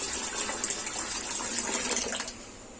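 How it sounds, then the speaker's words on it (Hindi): Water gushes steadily from a tap or jug onto rinsed chana dal in a pot for a home dal puri recipe, a continuous splashing pour close by that cuts off near the end. "तो देखिए इसमें पानी डाल देते हैं।"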